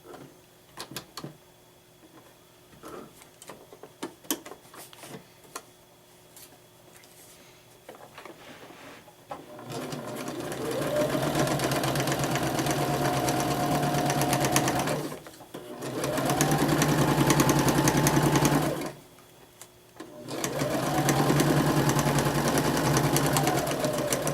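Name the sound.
sewing machine stitching along foundation paper for quilting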